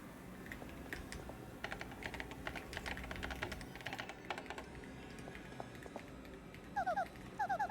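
Keyboard typing from Paper Mario: The Thousand-Year Door, a steady patter of soft clicks over quiet game music, followed near the end by a few short chirping game beeps.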